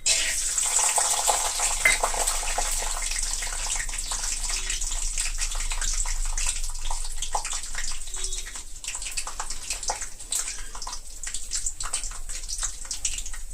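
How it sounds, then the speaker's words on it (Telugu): Peanuts frying in about two spoonfuls of hot oil in a pan, a bright continuous crackling sizzle that stays loud and steady throughout, with no talking. "పల్లీలు వేసుకుని వేయించుకుంటూ ఉన్నాం"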